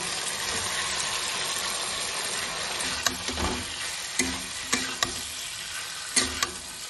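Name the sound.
chicken pakoras frying and being stirred in a pan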